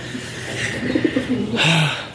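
Domestic pigeons in a pigeon house coo with low, soft rolling calls, a short warbling phrase followed by a deeper coo, close by over a faint steady background.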